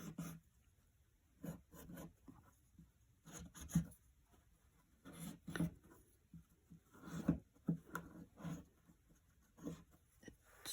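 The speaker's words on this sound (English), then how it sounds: "I'm going to use the pink tailor's chalk and just" Pink tailor's chalk drawing guide lines on black fabric, quiet scratchy strokes in irregular bursts with pauses between, close and faint, no talk.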